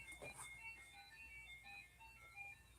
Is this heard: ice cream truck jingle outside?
yes